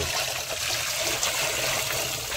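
Water poured over chicken being washed in a pot for a village-style clay-pot chicken dish, a steady close splashing and trickling stream running throughout with no talking.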